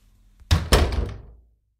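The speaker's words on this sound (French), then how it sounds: "elle a refermé la porte d'un coup sec" Two quick heavy thuds in close succession, like a door banged shut, with a brief rumbling decay.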